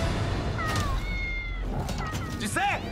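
A cat meows several times in short rising and falling calls, close and fairly loud, the last one sharper and more insistent, over a low background hum.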